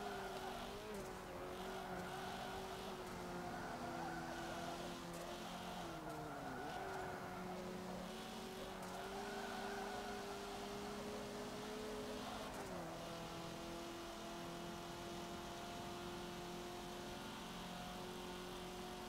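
Race car engine roaring at high revs with tire skidding in the Forza Motorsport 7 video game, a sport compact car pushed near 140 past its limits; steady, loud engine drone with pitch dips at gear or speed changes throughout.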